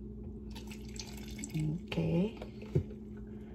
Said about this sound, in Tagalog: Paano natin lalagyan natin ng tubig para masimot yung milk.